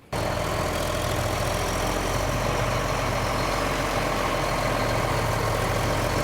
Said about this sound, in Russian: про свой синий трактор